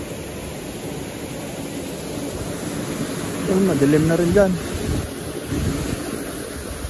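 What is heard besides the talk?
strong wind by the sea during a storm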